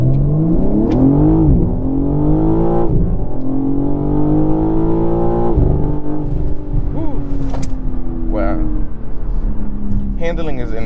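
A 2023 BMW M3 Competition xDrive accelerating away without launch control, engine revving up through several gear changes with rising pitch, loud and close from inside the car.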